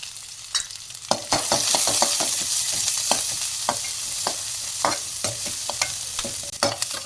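Mustard seeds, shallots, dried red chilies and curry leaves fry in hot oil for a country chicken fry, giving a steady loud sizzle broken by frequent sharp crackles and pops from bursting seeds, with no one speaking.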